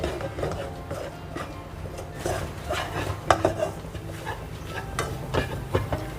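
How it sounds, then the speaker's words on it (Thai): Egg being stir-fried in hot oil in a wok, with clattering metal spatula scrapes and knocks over a busy sizzling background, fairly close, with a voice talking over parts of it. "เมื่อน้ำมันเริ่มห้อน เขาก็เอาไข่ลงขวก่อนเนาะ ขวไข่ให้สุก"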